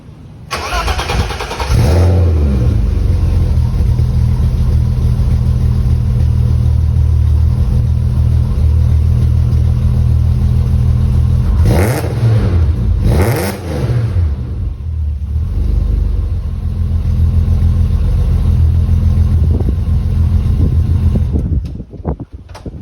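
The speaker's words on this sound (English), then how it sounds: "We're putting a cat back on the car because I'm not a teenager." A car fitted with a new cat-back exhaust starts up loud and close, then settles into a deep idle broken by two sharp revs before the engine shuts off at the end.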